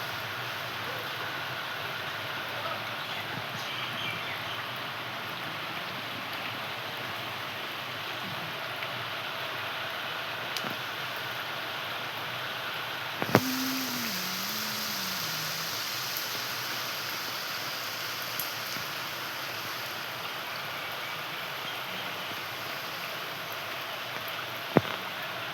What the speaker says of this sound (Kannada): ಮಳೆ ಎಷ್ಟಾಗಿತ್ತು ನೋಡಿ.